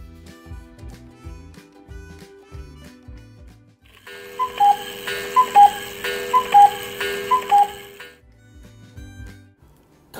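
A cuckoo clock ticks. After a soft musical passage, rhythmic ticks with bright, repeated chime-like tones sound clearly at moderate volume for a few seconds, then fade.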